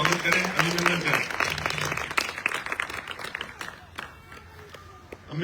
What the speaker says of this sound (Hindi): जोरदार तालियों के साथ उनका इस बैठक में स्वागत करें, अभिनंदन करें